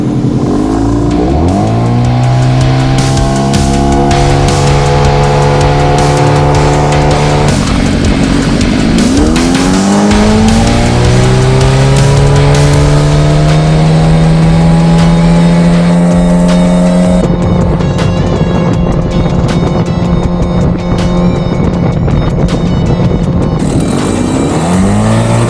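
Mercury 15 hp outboard motor pushing a heavy boat, a loud, steady engine drone heard close up whose pitch climbs and shifts several times as the throttle changes, with no voices.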